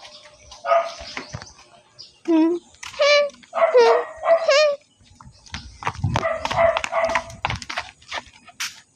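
A puppy gives several short, close yips and barks in a quick burst, followed by higher whimpering cries, with people talking nearby around the sounds.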